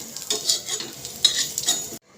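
Spices for a restaurant-style matar paneer gravy fry in a pan. A soft sizzle is broken by three or four quick scraping stirs, and it cuts to silence at the end.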